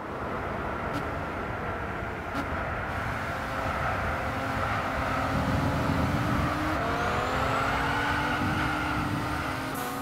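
A Pagani Huayra in the Gran Turismo 6 video game accelerates at full throttle down a back straight, a continuous engine roar that rises steadily in pitch as it picks up speed, with a few brief gear shifts.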